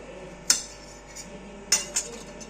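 A knife cuts lemons on a kitchen surface, giving a few sharp metallic clinks and taps at close range, separated by quiet pauses.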